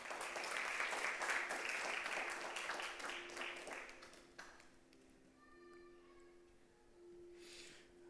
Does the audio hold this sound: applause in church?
yes